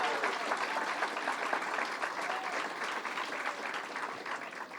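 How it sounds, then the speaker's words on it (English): A crowd gathered for a governor's funding announcement in Baldwin, Long Island, gives a sustained round of applause, an even wash of many hands clapping at a moderate distance and fairly soft. "Let's give her a big round of applause."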